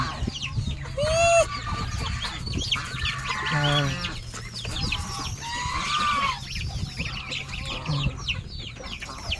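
Farm fowl on a Mindanao farm, including goose and duck chicks, peep and cheep in scattered high calls amid clucking adult birds, with a voice talking intermittently underneath.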